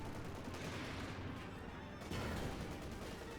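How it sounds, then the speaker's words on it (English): Dense machine gun and assault rifle fire from a Company of Heroes 2 battle between OKW and British forces, a continuous crackling rattle of many shots layered over one another, loud and steady throughout with no pauses. "getting focused down by a lot of machine gun fire and assault rifle fire."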